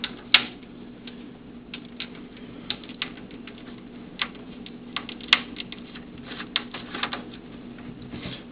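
Screws are backed out one by one from the metal shield inside a Super Nintendo console, making sparse, faint metallic clicks and small scraping ticks at an uneven pace with no voices.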